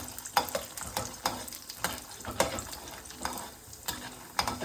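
Peanuts, urad dal and chana dal roast in hot oil in a pan for mango methi chitranna, with a steady sizzle broken by repeated scraping stirs every half second or so, close and fairly loud.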